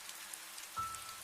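A heavy rain shower patters steadily as a soft, even hiss, fairly faint throughout, with one slightly louder splash or gust near the end.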